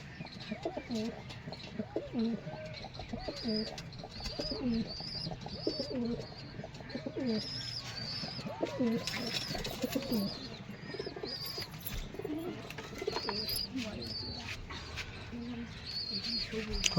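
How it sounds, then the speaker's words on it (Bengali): Male fancy crested pigeons at a pigeon sale coo in steady, repeated throaty rolls, several birds overlapping close by, with thin chirps above and faint human voices in the background. "নর পায়রা"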